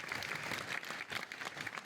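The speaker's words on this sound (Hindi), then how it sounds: "एक बार जोरदार ताली से" Audience at an MCD employees' event claps loudly and steadily for a brief burst, many hands close together with no voices.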